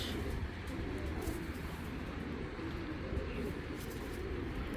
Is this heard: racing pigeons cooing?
yes